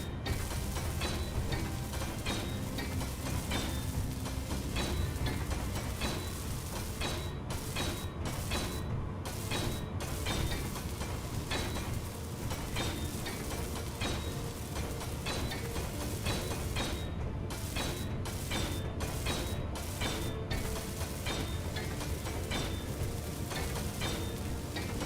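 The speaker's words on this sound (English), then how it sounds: "Let's weld up some stuff." A continuous, even welding hiss from the video game Space Engineers, heard while building mechs, holds as a steady sizzling wash with small creaks and clicks scattered through it, unbroken for the whole stretch.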